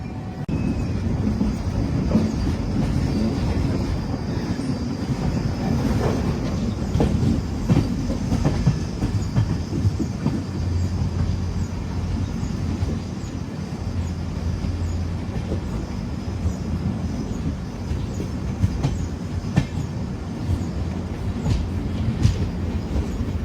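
The Tirupati to Hazrat Nizamuddin Rajdhani Express rolls along the rails on a diversion toward the Kadapa line, with continuous close rumble and rhythmic wheel clatter heard from inside the coach, steady throughout.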